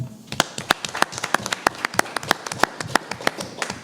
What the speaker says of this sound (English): Get a round of applause, please. Just a welcoming round of applause.